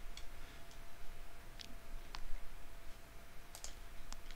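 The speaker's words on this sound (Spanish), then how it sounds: "hago clic aquí en J, ¿no?" A computer mouse clicks several times, sharp isolated clicks spaced irregularly and faint against a quiet room hum, with no talking.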